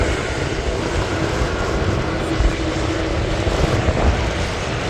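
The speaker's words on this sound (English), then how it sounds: "So there's one Dreamliner taxis to take off." A Dreamliner airliner taxis at Manchester Airport, its jet engines giving a steady, moderately loud broadband roar and rumble from some distance, with no speech over it.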